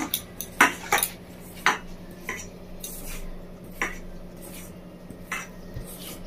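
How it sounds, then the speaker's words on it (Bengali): Egg pakora ingredients are mixed with gram flour in a bowl, giving a series of clinking, scraping knocks of a spoon against the bowl, irregular and fairly close, with quiet gaps between the strokes. "এবার আমি ভালো করে সব উপকরণটা একসাথে মেখে নেবো বেসনের সাথে।"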